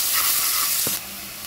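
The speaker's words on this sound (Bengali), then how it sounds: "পেঁয়াজ কুচি আমি তেলের সঙ্গে 2 মিনিট মতো নেড়ে চেড়ে একটু ভেজে নেব" Two chopped medium onions fry in hot oil in a pan, a loud close sizzle that drops suddenly in level partway through, with a brief stirring scrape and no voices.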